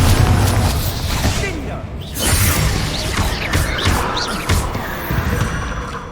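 Magical Bombarda blasts from the Hogwarts Legacy video game burst out in booming, crashing impacts amid rumbling game effects, with a character's voice calling out over the action.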